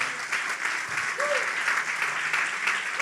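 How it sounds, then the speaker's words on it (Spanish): Steady, dense applause from a church congregation during a sermon fills the whole stretch, loud and continuous with no break. "dele un aplauso bien fuerte al Señor entonces"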